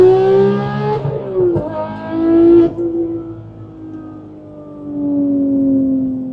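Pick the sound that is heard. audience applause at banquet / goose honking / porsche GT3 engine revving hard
porsche GT3 engine revving hard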